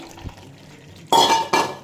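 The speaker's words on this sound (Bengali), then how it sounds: "এবার আমি ভাজা পটলগুলো দিয়ে দেবো" Fried pointed gourds go into a pan of cooked-down spice paste with two quick, close scraping clatters after a quiet moment.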